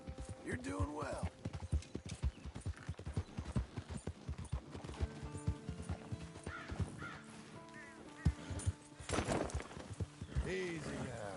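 Horse hooves clip-clop at a steady trot in Red Dead Redemption 2, a rhythmic run of close, fairly loud steps heard under frequent talking, with a few bird caws and a brief whinny mixed in.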